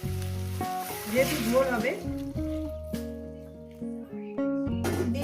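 Hot water hits a pan of sizzling spiced potato and cauliflower curry, a hiss and frying crackle running under a voice and background music.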